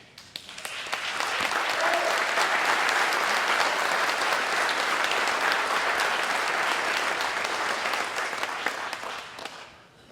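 Sustained audience applause at an athletic hall of fame induction ceremony, swelling quickly after the final inductees are called to the stage, holding steady for several seconds, then fading out.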